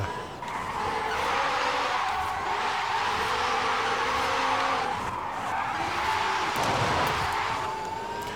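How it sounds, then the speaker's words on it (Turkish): An electric 1000 hp Hyundai N Vision skidding on the handbrake in Forza Horizon 5, a sustained loud tire squeal holding for several seconds with shifting pitch, close and continuous, without talk. "Bilerek fazladan el freni çekiyorum. Hafiften arabayı yanlatalım diye."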